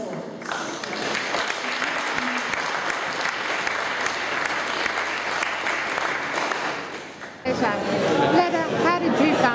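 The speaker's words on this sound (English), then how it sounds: "I want you to clap yourselves" A room of people at a local democracy gathering in Nowra, NSW, applauds themselves in a dense, steady burst lasting most of the moment, with murmured chatter woven through before the clapping breaks off and voices take over.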